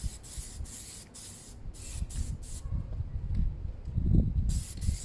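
An aerosol can spraying Plasti Dip onto a Suzuki Bandit motorcycle, a series of short close hissing bursts in the first half followed by a longer spray near the end over low background rumble.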